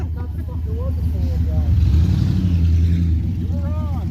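An old GMC pickup truck's engine running close by, a loud low steady rumble that builds slightly in the middle, with people talking over it.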